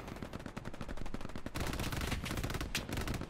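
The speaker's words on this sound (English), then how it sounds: "That MG suppression, holy crap." Rapid bursts of MG machine gun fire rattle continuously in a D-Day battle game, dense sharp shots overlapping with heavier blasts and echoing gunfire.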